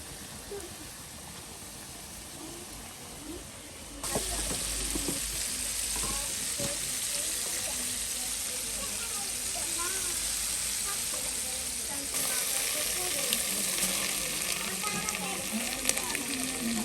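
Chicken leg pieces for KFC-style fried chicken drop into hot oil and set off a sudden loud, steady sizzle and bubbling. The frying grows more intense partway through, with faint voices in the background.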